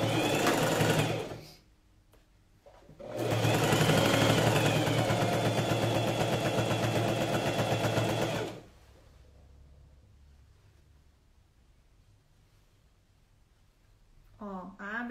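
Loud sewing machine stitching the armhole, sleeve and side seams of a coat, running in two bursts of about one and five seconds separated by a pause, then falling quiet with faint background noise.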